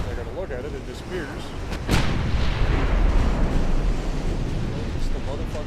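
Battleship gunfire in a naval war strategy video game: a heavy booming salvo hits midway, followed by sustained rumbling roar, with someone talking over it throughout.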